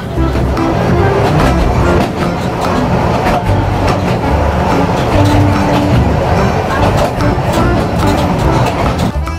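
A Brecon Mountain Railway train rumbles and rattles steadily along the track through the Brecon Beacons, with clattering wheels and a brief squeal, loud and continuous throughout.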